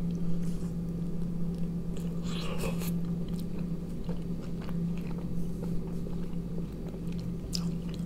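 Biting and chewing a spicy snack close to the mic, with soft wet crunches and squishy mastication continuing steadily over a constant low hum.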